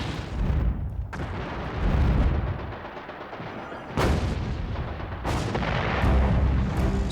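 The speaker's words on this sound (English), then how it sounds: "he calls an artillery barrage on Assenois" Artillery barrage pounding a village in the Battle of the Bulge, with heavy booming blasts and sharp reports over a constant rumbling din, loud and dense with no pauses.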